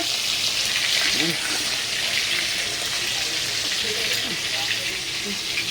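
Nigella seeds (black cumin) fry in hot oil with a steady, bright sizzle that holds evenly throughout, with a few soft clinks of stirring underneath and a voice speaking quietly in the background.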